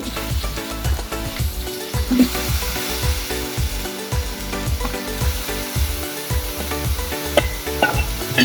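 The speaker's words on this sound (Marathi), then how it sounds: "आता ते पण ह्या वाटण्यामध्ये असं मस्तपैकी फ्राय करून घ्यायचे" Brinjal and potatoes fry in a ground masala paste for a Maharashtrian dried surmai kalwan, a steady sizzle with repeated stirring and scraping knocks of a spoon against the pan, close and continuous with no talk.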